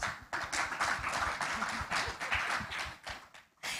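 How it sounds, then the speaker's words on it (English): A conference audience in Dubai claps in a steady, moderate round of applause that is dense but fairly soft, lasting a few seconds and thinning toward the end. "Let's give Naila and Elena a big round of applause"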